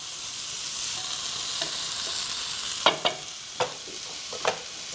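Potatoes fry in a pan over a high flame with a steady, even sizzle. Several sharp scrapes and knocks come as they are tossed and stirred, with no voices.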